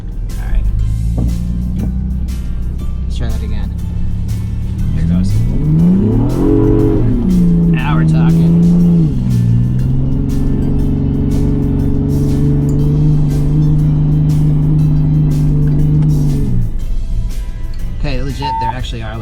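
A 2023 Ford Bronco Raptor in Baja mode revs hard in the snow, the engine climbing in pitch, then holding a steady loud drone for several seconds before easing off, with a voice talking over it.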